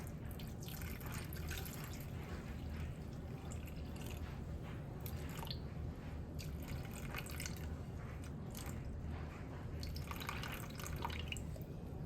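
Water poured into a bread dough mixture gives a steady, close liquid pour with scattered drips and soft wet splashes for about twelve seconds, heard alone without talk.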